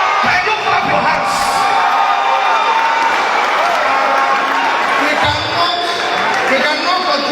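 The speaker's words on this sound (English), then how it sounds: "Can you clap your hands?" A dense, loud crowd at an outdoor town hall meeting in Awka, Anambra State, Nigeria, claps continuously with cheers and whoops mixed into a roaring wash of sound.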